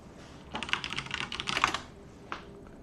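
Someone types quickly on a computer keyboard during a typing test, giving a close, dense patter of key clicks in two bursts followed by one last tap.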